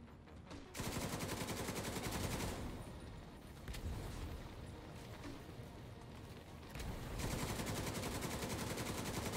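Rapid gunfire in the video game The Division 2, sustained bursts of automatic shots crackling nearly nonstop and fairly loud, with a short gap early on before the shooting resumes.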